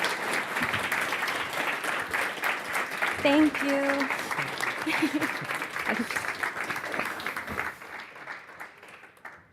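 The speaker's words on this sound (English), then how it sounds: "a big round of applause for Shafali" Audience applause closing a talk at a games festival, a steady dense clapping from a seated crowd that fades out at the end, with a brief spoken thanks over it.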